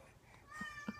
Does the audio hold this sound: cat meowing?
yes